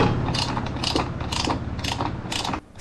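Screws being tightened on a crash guard for a Yamaha Aerox scooter, a close run of repeated ratcheting clicks and metallic mechanism noise with no talking.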